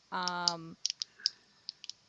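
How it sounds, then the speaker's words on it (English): Sharp plastic clicks from a fidget cube, about eight separate snaps spread unevenly across two seconds, close and fairly quiet, following a short sustained hum at the start. "I'm clicking my fidget cube."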